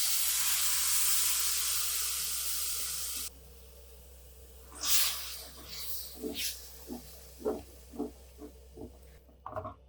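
Ground tomato paste hits fried masala in a hot pan with a loud, dense sizzle that cuts off abruptly, followed by a string of close spoon scrapes and taps as the gravy is stirred.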